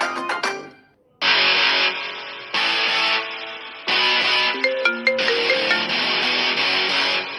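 Phone ringback after a call is placed: a brief electronic chirp, then loud synthetic ringing tones in long repeated bursts separated by short gaps, alone without voices.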